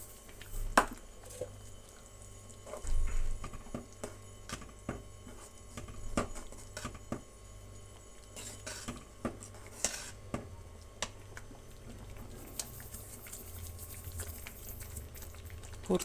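Semolina poured into a pan and stirred, giving soft grainy scraping, light clicks of a spoon against metal and faint bubbling underneath, close but fairly quiet, with no one talking.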